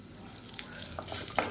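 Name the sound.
urad dal frying in hot oil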